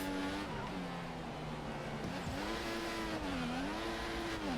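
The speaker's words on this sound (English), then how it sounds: "We revved the engine so much we lost all our fuel." Simulated Formula 1 engine from F1 2014 revving hard and held high without upshifts, a loud continuous whining drone whose pitch sweeps up and down, steady throughout with faint speech beneath.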